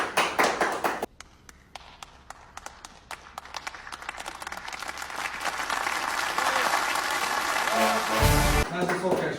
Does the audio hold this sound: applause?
yes